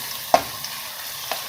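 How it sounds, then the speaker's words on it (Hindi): Ginger garlic paste frying in a pan for an aloo shimla mirch sabzi, a steady low sizzle with two brief sharp clinks of a spoon against the pan. "अब हम इसके अंदर अदरक लहसुन पेस्ट डाल देंगे। इसको हम 1 से 2 मिनट के लिए फ्राई करेंगे"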